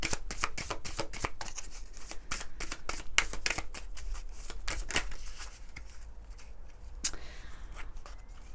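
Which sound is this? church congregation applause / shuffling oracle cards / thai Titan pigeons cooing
shuffling oracle cards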